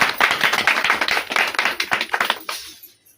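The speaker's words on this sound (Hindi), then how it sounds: "थैंक यू दीदी के लिए ताली बजा" A church congregation claps together in quick, fairly loud bursts for about two and a half seconds, then the clapping stops abruptly.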